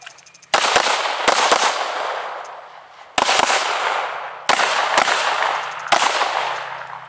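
Handgun shots at a shooting range: loud, sharp reports at uneven intervals, some in quick doubles, each ringing off into a long echoing tail.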